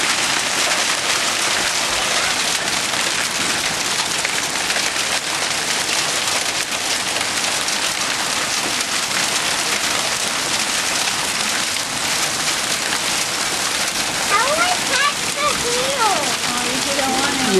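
Hail pelts down hard during a June storm in Richmond Hill, a dense, loud, continuous patter and hiss on the ground and surfaces, with a person speaking briefly near the end.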